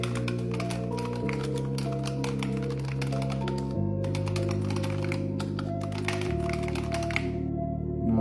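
Rapid, continuous keystrokes clatter on a Razer Huntsman Tournament Edition keyboard with linear switches, a dense close-up tapping with brief pauses, over a steady background music bed.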